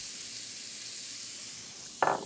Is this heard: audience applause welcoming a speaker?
no